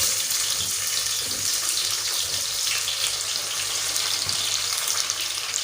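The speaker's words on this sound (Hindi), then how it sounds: "घी हमारा अच्छे से गर्म हो चुका है। अब मैं इसमें डाल दूंगी प्याज।" Onions dropped into hot ghee in a pan for a beef achar gosht, giving a loud, close, steady sizzle and crackle that holds without letup, with no one talking.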